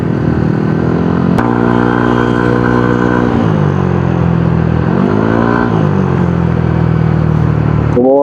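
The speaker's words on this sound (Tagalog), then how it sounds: "mas maingay po yung tambutso ko ngayon." A loud motorcycle with a stainless exhaust idles roughly, then revs up and down in several swells, with exhaust rumbling close by throughout.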